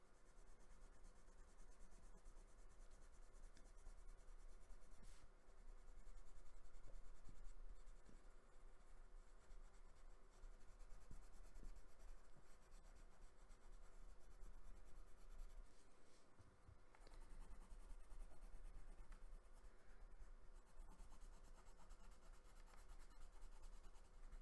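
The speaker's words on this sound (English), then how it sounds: "The sound of the pencil I was listening to then is quite soothing." Pencil colouring on paper, a soft continuous scratchy rubbing with quick back-and-forth strokes and brief pauses, very faint and close, with no talk.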